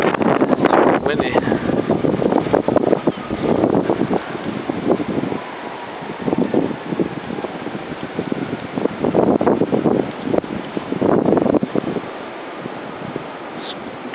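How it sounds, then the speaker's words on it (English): Strong gusting wind in an outdoor Chicago street during a 2011 winter blizzard, roaring steadily with swelling bursts and buffeting the microphone throughout. "It's definitely not as windy as it was, but it's windy."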